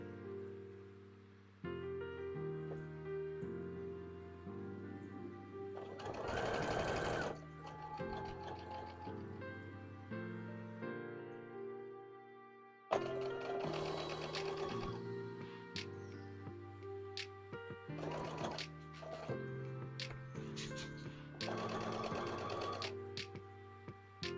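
A sewing machine stitches yellow thread onto hats, running in steady whirring bursts that stop and restart, close by and fairly quiet.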